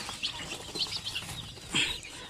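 Hens cluck softly among their chicks in a poultry house, scattered faint peeps and short clucks with a brief louder squawk near the end, all fairly quiet.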